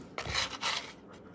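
Fried plantain pieces are pressed flat with a spatula during a traditional Puerto Rican carne frita meal, giving two short close rasping, scraping pushes against the pan surface, fading afterward.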